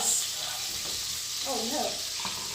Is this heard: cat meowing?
no